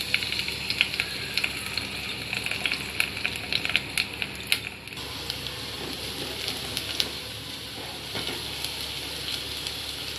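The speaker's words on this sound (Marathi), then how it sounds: "कांदा आणि कढीपत्ता घालून घेते आहे।" Onion and curry leaves fry in hot oil in a cooking pot with a continuous close sizzle, crackled through by sharp pops and spits that ease off partway through.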